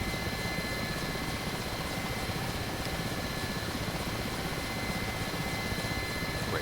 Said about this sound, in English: Bunny hops in an Mi-8.